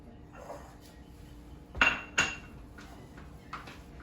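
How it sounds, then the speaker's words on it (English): Onion being mixed into cornbread in a bowl, heard as a couple of sharp clinks of a utensil against the bowl followed by softer faint scraping, with no talk. "I'm going to take the onion and put it right in there. And I'm going to mix that up."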